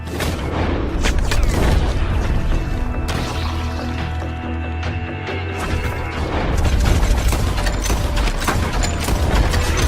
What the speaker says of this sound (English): He's going for the Gatling!